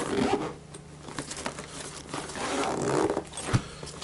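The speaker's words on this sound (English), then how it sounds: "Zipper comes down all the way and it folds out." A roadside kit bag's zipper is drawn open in a long, scratchy run of rubbing and rustling, close by, ending with a sharper tug.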